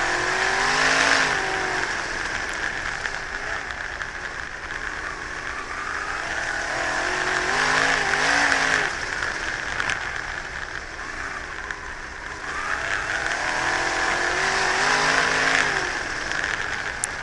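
A dirt track race car engine revs and surges continuously at close range, rising and falling in pitch with heavy throttle changes, loud and steady throughout with no voices.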